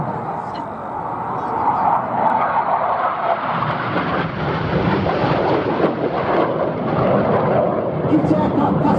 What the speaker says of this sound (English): Each aircraft passing with only 30 metres, that's 100 feet of each other